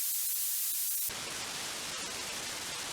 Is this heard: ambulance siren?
no